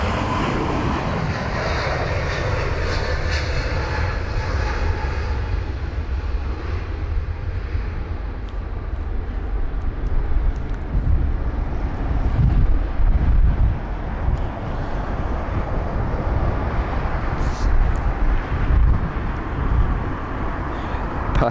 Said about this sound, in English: There's the JetBlue 321 heading to JFK.